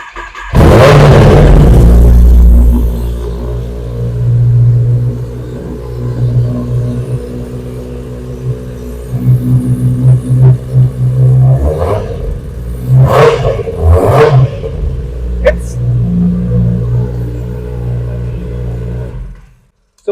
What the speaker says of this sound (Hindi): now we gonna here the sound of this bike,